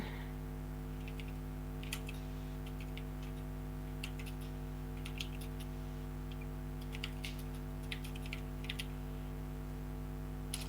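Light typing on a computer keyboard, scattered soft clicks and short bursts of keystrokes over a steady low electrical hum, faint and close, with no voices.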